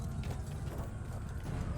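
A horse in a video game clip-clops with a rapid, mechanical rhythm of hoof sounds, close and moderately loud, running without pause.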